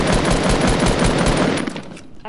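Rapid automatic gunfire from a video game weapon aimed at a tree, loud and continuous bursts for about two seconds before tapering off at the end.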